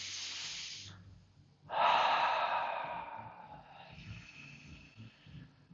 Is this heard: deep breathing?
yes